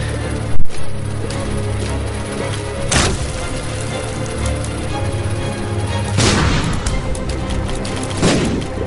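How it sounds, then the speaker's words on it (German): Bomb explosions from The Binding of Isaac video game, heard as several loud booming blasts spread across the clip, one sharp burst near the start and heavier rumbling bursts later, over a continuous noisy game soundscape. "meine Bombe war total nutzlos"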